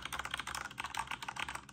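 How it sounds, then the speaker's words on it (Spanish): Fast, steady typing on a Corsair K70 MK2 mechanical keyboard with blue LED backlighting, a dense run of close, crisp key clicks with no talk. "El teclado es un teclado mecánico"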